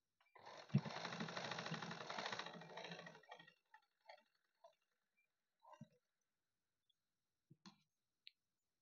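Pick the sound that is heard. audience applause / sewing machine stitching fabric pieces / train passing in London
sewing machine stitching fabric pieces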